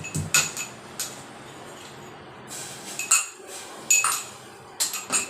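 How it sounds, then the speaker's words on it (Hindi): Ginger is pounded in a small kitchen mortar, giving sharp, clinking metallic knocks that come in uneven clusters of two or three with quiet gaps between them. No one speaks. "ये कुटनी में आसान रहता है, अच्छे से कुट जाती है अदरक वगैरह।"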